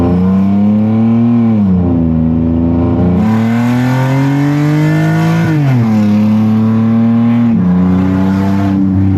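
Base-spec Nissan Skyline R34 with an RB inline-six accelerates hard through the gears, the engine note rising strongly, dropping at each shift and climbing again, loud and close, with no talk.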